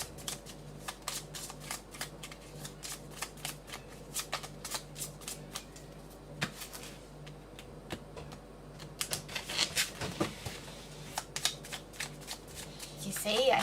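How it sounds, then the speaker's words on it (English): Tarot cards are shuffled by hand in quick, irregular riffles and snaps, a long run of crisp clicks over a faint steady hum that grows busier and louder toward the end. "I shuffle them no particular way, just get them in there"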